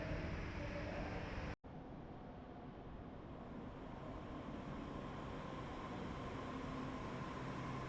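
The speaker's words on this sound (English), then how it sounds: "The metro arrives almost silently." A metro train pulls into a city station with a low, steady rumble and hum. The sound drops out for a moment, then resumes at a moderate, even level with no voices.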